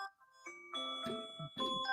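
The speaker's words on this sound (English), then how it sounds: "That's my alarm." A phone alarm goes off as a short, fairly quiet electronic melody of bright ringing tones that rises and repeats, with no talk over it.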